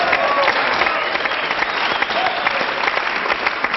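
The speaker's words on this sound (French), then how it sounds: "on applaudit encore le sergent Garcia." Dense, sustained applause from a television studio audience fills the stretch evenly and loudly, with no pause.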